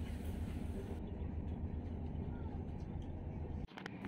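Continuous low rumble inside a moving Shalimar–Puri Superfast Express passenger coach, steady and broadband, with a brief dip near the end; no clear talk.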